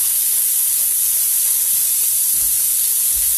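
Onions thrown into a hot pan over lowered heat, giving a loud, continuous hissing sizzle that holds steady for a few seconds with no talking.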